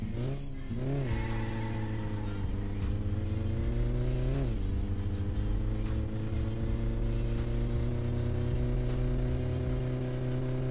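Satsuma car engine in My Summer Car revving and accelerating through gears, a steady loud droning tone that dips at shifts and climbs again, alone without talk.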